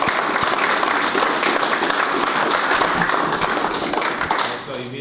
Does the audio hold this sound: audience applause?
yes